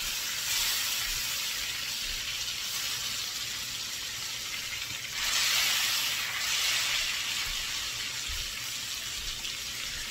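Butter melting in a pan for butter chicken, a steady soft hiss and sizzle that swells slightly for a few seconds midway, with no voices.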